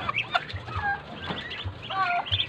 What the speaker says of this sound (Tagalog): Ito yung Chinese chicken namin.